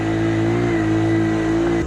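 A motorcycle engine idles and revs steadily near the microphone on a rainy day at a Murree chairlift parking terrace, loud and continuous, then cuts off sharply near the end.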